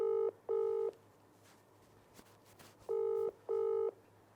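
Telephone keypad dialing tones sound as a call is placed, four steady beeps in two pairs separated by a pause with faint background noise, no speech.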